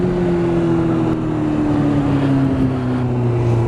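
A motorbike engine runs continuously, close and loud, in a steady droning hum whose pitch slides slowly downward, with rushing wind noise underneath and no voices.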